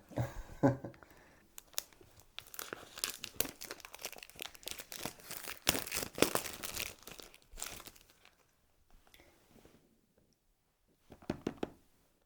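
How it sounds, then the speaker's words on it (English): Packaging for an Apple AirTag being opened with scissors: crinkling, crackling plastic and paper handling with scattered clicks and tears, busy at first then sparse bursts near the end, close and moderately loud. "So I think it is time to... Unbox it."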